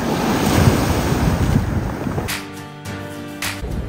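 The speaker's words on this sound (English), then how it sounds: "crackling noise of the rocks." Black Sea waves washing over a rocky beach at Sochi, a loud rushing surge with gusty wind noise, then the wave receding with a crackling of tumbling rocks.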